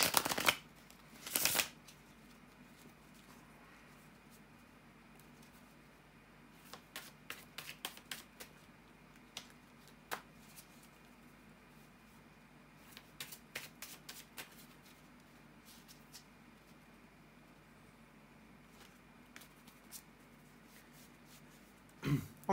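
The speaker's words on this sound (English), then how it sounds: "bear with me a second, guys, to shuffle the tarot cards" Tarot cards being shuffled in quiet, short riffling bursts spread across a long, otherwise hushed stretch with faint background hum.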